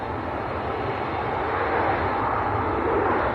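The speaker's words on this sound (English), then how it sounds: "Ryanair just touching down. That's in from Milan." A Ryanair Boeing 737-800 jet lands at Manchester Airport, its engines a loud, steady broadband roar held throughout with no talk over it.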